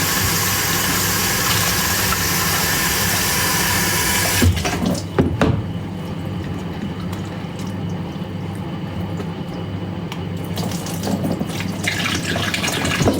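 Vegetables washed under a running kitchen tap give a steady, loud rush of water for several seconds, then the flow cuts off, leaving a quieter background with a few clattering knocks. No one speaks.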